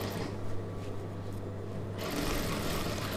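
An USHA sewing machine stitches a chudidhar, making a quiet, continuous mechanical whir that grows a little louder and busier partway through.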